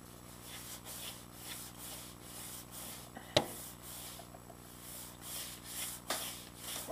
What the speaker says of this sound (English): we're taking the sandpaper, and we are just simply running it